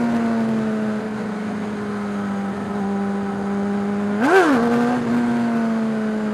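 A Yamaha R6 motorcycle engine drones steadily at close range, then surges in a brief rev as the rear wheel spins before settling back to a steady pitch.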